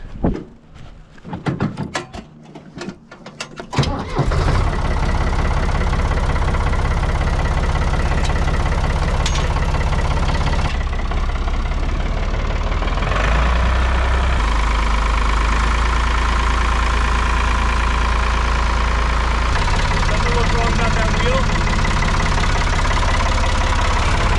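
A 50 horsepower three-wheeler sleeper golf cart engine idles loudly and steadily up close with a deep, constant rumble, after a few seconds of clattering and handling noises at the start.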